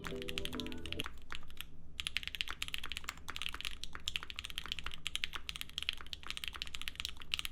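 Fast typing on a freshly built 65% mechanical keyboard with a knob, crisp poppy keystrokes in a dense continuous stream, close and clear, after a brief low hum at the very start.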